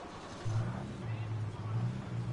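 A station wagon drives in Alan Wake Remastered, its engine a steady low drone that holds on continuously, with no break, under a voice talking.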